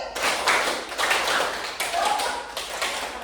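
Sharp hand claps in a classroom counting game, several quick claps spaced a fraction of a second apart and mixed with voices speaking.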